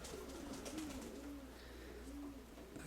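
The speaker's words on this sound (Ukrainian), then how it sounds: "мені віддали голубку" A domestic pigeon, a female dove, coos softly in low, rolling calls repeated a few times, faint and somewhat distant over a steady background hum.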